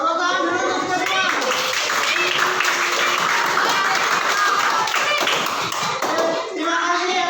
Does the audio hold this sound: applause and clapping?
yes